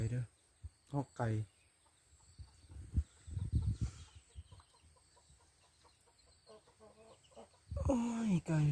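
Chickens and chicks cluck around the yard of a rural home, with short calls scattered across the clip and a louder, nearer burst near the end, partly under soft background voices.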